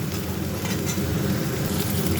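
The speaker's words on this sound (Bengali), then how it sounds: "পেঁয়াজটা অল্প ভেজে টমেটো দিয়ে দিয়েছি" Onion frying in oil flavoured with bay leaf in a pan, a dense, even sizzle held close and steady throughout, with no talk.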